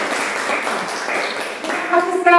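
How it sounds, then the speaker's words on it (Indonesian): A university class applauds at the end of a teaching-practice lesson, a diffuse patter of clapping from the room, with a voice rising over it near the end. "Beri tepuk tangan untuk kelas ini."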